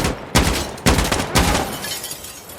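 Gunfire in the video game Insurgency Sandstorm, several loud close bursts of shots at irregular intervals, each followed by a brief decaying tail, with no talk over them.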